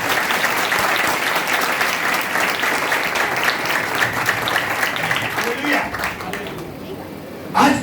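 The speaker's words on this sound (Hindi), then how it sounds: "आइए सब बैठे और यीशु के कलाम के लिए जोरदार तालियां।" Congregation in a church service applauds loudly, a dense, sustained wash of clapping and crowd noise that thins near the end with a few voices.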